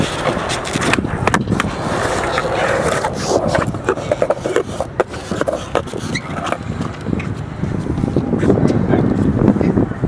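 A skateboard attempting a nollie flip rolls and scrapes outdoors, with wheel rumble, wind noise and several sharp wooden clacks of tail and board impacts, fairly close.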